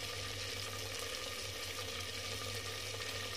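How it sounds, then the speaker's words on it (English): Oil sizzles steadily as fish fries in a mud pot, village style, a constant crackling hiss with a low hum underneath, close and fairly quiet. "It's frying deeply"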